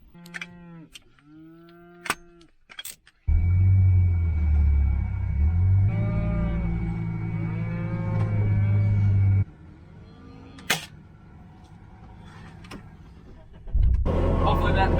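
Cattle on a farm moo repeatedly, with loud close lows and several overlapping calls, while a vehicle engine idles nearby and a person speaks briefly.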